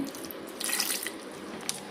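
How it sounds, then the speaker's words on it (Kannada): Water is poured into a mixer jar while making cucumber buttermilk, giving a short, soft splashing trickle at close range that rises briefly in the middle. "ಸ್ವಲ್ಪ ನೀರು ಹಾಕೋತೀನಿ."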